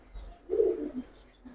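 An old-breed Giribaz pigeon, one of a pair of red or black Dobash, gives a single soft, low coo close by in an otherwise quiet room.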